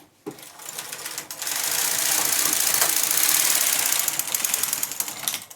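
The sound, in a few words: knitting machine knitting a zigzag row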